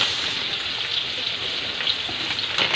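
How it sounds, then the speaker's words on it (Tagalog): Garlic, onion, ginger and tomato fry in a hot pan with a dense, hissing sizzle that stays steady and close, with a few soft crackles and no speech. "Nilagay ko na yung ating bawang, sibuyas, luya, kamatis."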